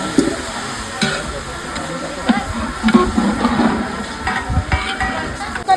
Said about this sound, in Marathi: कांदे घालून घेतात फोडणीसाठी.